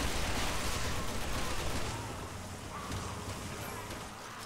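Gunfire from the video game Resident Evil 6 crackles in a dense, continuous burst of shots, loud at first and then slightly softer, with no talking.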